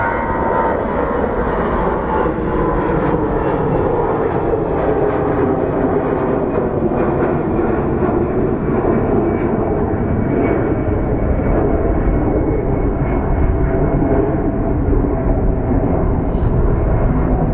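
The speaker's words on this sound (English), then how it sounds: "Looks like it's an A319 or an A320." An Airbus A319 or A320 jet roars steadily through its takeoff at Phoenix Sky Harbor, a loud, broad engine rumble that holds constant for the whole stretch without talk.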